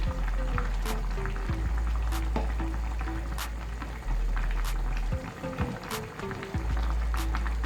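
Fish curry of mrigal with winter beans and potato bubbling and sizzling steadily in a pan on the stove, a close, continuous simmer with occasional sharper pops.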